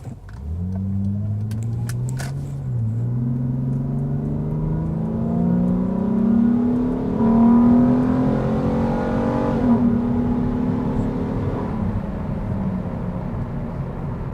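A 2003 Acura 3.2CL with its J-series V6 accelerates hard through the gears, the engine note climbing in pitch, dropping briefly at each shift and rising again, loud and close, with no talk.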